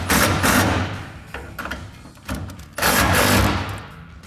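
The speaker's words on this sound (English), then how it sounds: "we can take that 19mm socket to tighten these up." 19mm socket ratcheting to tighten bolts on a Fishbone Offroad Tackle bed rack bracket of a Jeep Gladiator JT, several close, rough bursts of clicking separated by short pauses.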